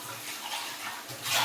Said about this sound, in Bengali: পরিমাণে একটু পানি দিয়ে দিব